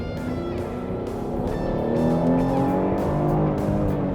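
A Chevrolet Blazer SUV accelerates with a steady engine drone that climbs slowly in pitch, heard from close by as road and tyre noise build for several seconds, with no one speaking.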